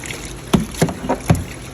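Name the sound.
bulldog shaking off water after bath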